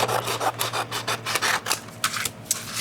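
A paper trimmer slices down a sheet of A4 paper with a series of close, rapid scraping rasps, each stroke short and crisp.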